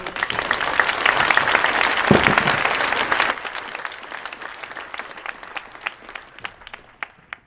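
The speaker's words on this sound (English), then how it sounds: "So give them a round of applause real quick." A crowd at a school signing day ceremony applauds the athletes, a brisk burst of clapping that thins out after a few seconds into scattered individual claps and faint talk.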